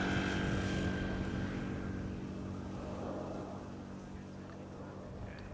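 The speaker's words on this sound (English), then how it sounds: "let's have a quick look at the landing over at Polderban of the Embraer" KLM Embraer 175 airliner landing on the Polderbaan runway at Amsterdam Schiphol, a steady, loud jet roar that fades slightly over several seconds with no talk.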